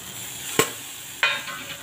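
A spoon stirs Kashmiri red chilli powder, coriander powder, turmeric and tomato in a pan for a brinjal bhaji with peanut paste: two short, distinct scraping strokes over a faint, steady sizzle.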